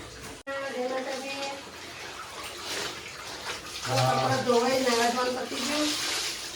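Water gushes steadily from a tap into a container, a constant rushing flow with a voice or tonal sounds rising over it partway through.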